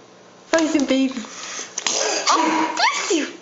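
Twin babies sneeze close by in quick succession, small sharp bursts mixed with sniffs, throat noises and baby vocalizing, with an adult voice in between.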